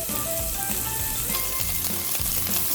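Onion frying with mutton liver on a tawa makes a dense, steady, crackling sizzle that fills the short stretch without pause. The sizzle is close and loud with no talk over it.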